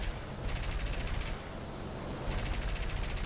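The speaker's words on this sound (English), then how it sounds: "Yeah, you waste all your cannon shots" Rapid, continuous bursts of heavy cannon fire from an M10 GMC tank destroyer in War Thunder, loud and sustained, with a short lull before the barrage resumes.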